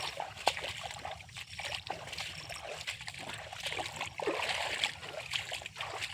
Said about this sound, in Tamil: அந்த வாய்க்காலில் தண்ணி இருக்கும்போது அது மேலே நம்ம காலை வச்சு அப்படி நடந்து போகும்போது அந்த சத்தம்